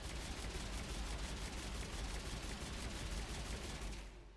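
Sustained rapid automatic fire from a gun in the sci-fi shooter Mass Effect 3, a steady dense rattle of shots at low level that stops abruptly near the end.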